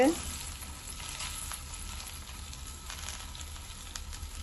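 Bread slices frying in a pan, a soft, steady sizzle that runs continuously and fairly quietly.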